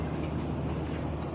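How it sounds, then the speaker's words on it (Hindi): A Karakoram Express train hauled by a GE U40 locomotive departs Khanewal Junction station, a steady dense rumble of rolling wagons with low engine drone, close and continuous throughout. "कराक्रम एक्सप्रेस रवाना हो गई है खानेवाल जंक्शन रेलवे स्टेशन से"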